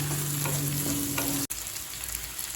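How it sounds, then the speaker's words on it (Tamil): Green chilies and small shallots sauté in a hot pan for onion rice, a steady close sizzle with a low hum that cuts off sharply halfway, followed by a quieter, even frying hiss. "2 பச்சை மிளகாய், சின்ன வெங்காயம் நல்லா வதங்குற வரைக்கும் வெயிட் பண்ணலாங்க"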